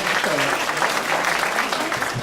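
A crowd at a Diamond Jubilee celebration in Alcossebre gives a round of applause for a music ensemble: dense, steady clapping from many hands that fills the whole short stretch, with a voice faintly over it.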